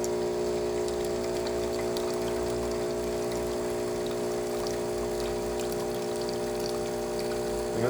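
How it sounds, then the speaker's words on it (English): A DeLonghi Magnifica espresso machine, freshly serviced, pours a shot with a steady pump hum carrying strong tonal harmonics and a thin stream of liquid trickling beneath, continuous and close for the whole stretch. "And it seems to be pouring a nice shot of espresso too."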